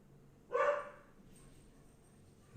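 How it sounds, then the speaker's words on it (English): A single dog bark sounds once, moderately close and fairly loud, followed by quiet room tone and a faint click at the end; no one talks over it. "This dog."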